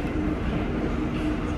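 A blue Line 1 train of the Sofia metro gives a steady low rumble and hum from inside a nearly empty carriage, continuous and close throughout.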